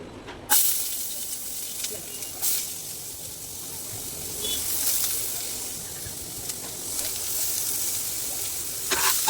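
Onions and green chillies hit hot oil with a sharp, hissing sizzle that starts suddenly and then settles into a steady, moderately loud frying crackle, with a few brief louder spurts.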